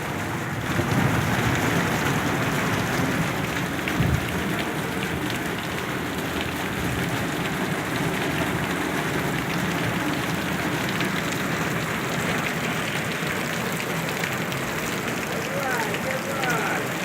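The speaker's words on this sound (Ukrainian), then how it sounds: "Ох ты, ёп, это град." Hail mixed with rain pours down in a dense, steady roar of pattering impacts that holds for the whole stretch, with voices faintly present underneath.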